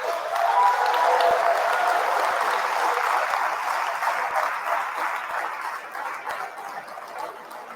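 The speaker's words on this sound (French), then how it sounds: "J'ai pris les noms de toutes celles et ceux qui applaudissent" Sustained applause from an audience at a French political speech, a dense steady clatter of many hands that tapers slightly toward the end, fairly close and filling the room.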